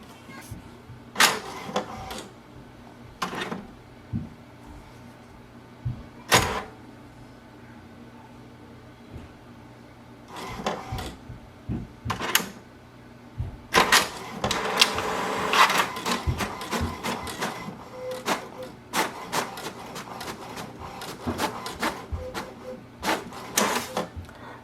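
An HP DeskJet 4310 inkjet printer running a cleaning cycle whirs and clicks in repeated mechanical bursts, with short pauses between runs and a steadier churning stretch toward the end.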